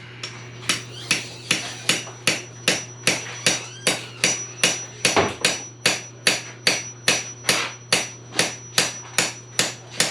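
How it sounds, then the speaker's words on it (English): Steady, evenly spaced blows of a heavy hammer on a hickory ramrod, removing a stuck load from a Traditions Pursuit muzzleloader, ring out about two per second, loud and close with no talking. "a little heavier hammer would be in order"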